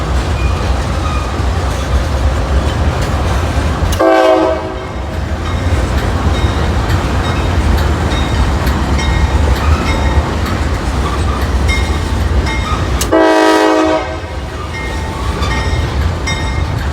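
A CSX local freight train passes close by with a continuous heavy rumble and rattling wagons, broken twice by short harmonic horn blasts, each lasting about a second.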